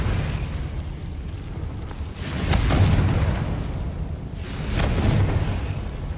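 Two deep booming blasts from the Confringo fire spell in Hogwarts Legacy rumble out a couple of seconds apart, each swelling and fading over a low steady background.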